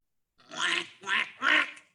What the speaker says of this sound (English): It was a baby duck.